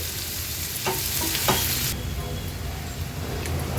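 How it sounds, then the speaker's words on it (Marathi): Finely chopped onion cooks in a pan over a low flame for a clams masala, giving a continuous soft sizzle broken by a couple of brief spatula stirs early on. "मोठा कांदा घेतलाय मी बारीक चिरून तो ऍड करूया तो पण छान मऊ होईपर्यंत आपल्याला शिजवून घ्यायचा आहे"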